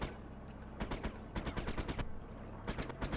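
Automatic gunfire erupts in the Sniper: Ghost Warrior 2 video game, several short rapid bursts of sharp cracks separated by brief pauses, fairly close and loud over a low background rumble.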